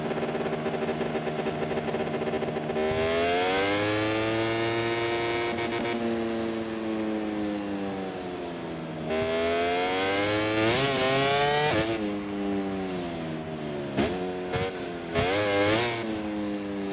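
A MotoGP racing motorcycle in MotoGP 24 at the TT Assen circuit revs hard with rising, whining engine pitch and rapid gear changes, loud and close, alone without talk.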